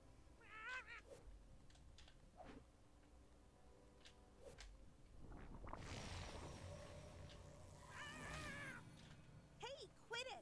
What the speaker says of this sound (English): Go get this cat over here quick.